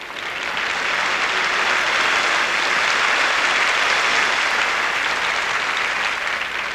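A large audience at a 1980 Liberace live show in Las Vegas applauds in a dense, sustained roar of clapping that swells in and holds steady for several seconds.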